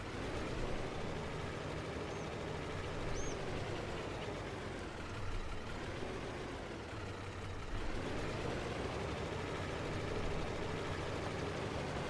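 A tractor engine in the video game Farming Simulator 22 drones steadily at a low, broad rumble, dipping briefly midway as it works, continuous and fairly close with no talking.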